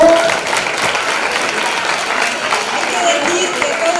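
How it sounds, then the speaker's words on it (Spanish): Steady applause from a TV talent show studio audience fills the whole stretch, a dense wash of clapping with no voices over it. "¡Aplauso!"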